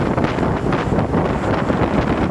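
Steady, full-bodied wind gusts roar across an outdoor scene, loud and continuous with no pause and no voices.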